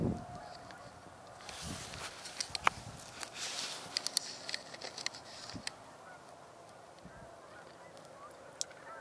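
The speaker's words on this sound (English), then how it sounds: "Canada geese coming this way." Canada geese honk in flight over farm fields during migration, a scattered series of faint to moderate calls at a distance, rising in a cluster midway and then thinning out over steady outdoor background noise.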